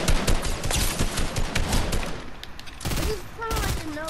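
Bursts of rapid gunfire rattle in a video game shootout, a dense string of shots for the first two seconds followed by scattered reports, with voices talking over the action.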